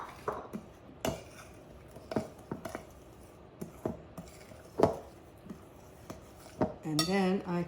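A spoon or whisk clinks against a mixing bowl while an egg is worked into apple cake batter: scattered sharp taps and scrapes, close and fairly quiet, ending with a brief vocal sound.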